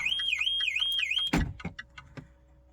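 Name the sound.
car alarm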